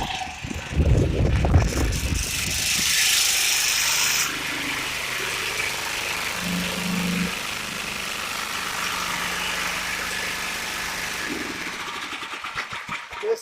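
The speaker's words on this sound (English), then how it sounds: "That's because it's operating off of that generator. Pumping from the well." A generator engine runs steadily while it pumps water from a well. The hum is continuous and moderately loud, with a louder clattering burst at the start and no talk over it.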